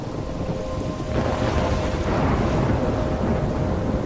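Steady rain and a low rumble of thunder from a thunderstorm in the video game Life is Strange, a dense wash of noise with no voices that swells a little louder after the first second and holds.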